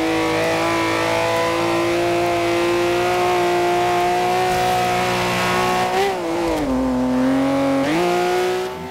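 A race car in Forza Horizon 2 holds a loud, steady high-revving engine whine through a slide. Near the end the pitch dips and rises again as the revs shift, with a faint tire hiss beneath.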